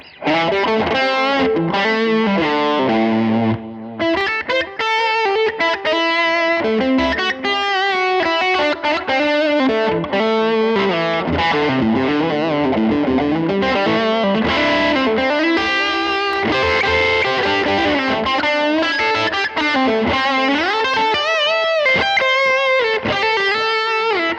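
Distorted electric guitar playing a continuous riff with chords and single notes through a Line 6 Helix with a Tweed P10R cabinet simulation, loud and dense, shaped by a speaker-cabinet tone, no voices.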